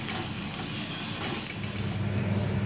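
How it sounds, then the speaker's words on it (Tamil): Ragi adai frying on an oiled griddle gives a steady, close sizzle that holds evenly throughout with no talking. "தோசைக்கல்லில் எண்ணெய் ஊற்றிட்டேன். இப்போ இந்த அடையை போட்டுடலாம்."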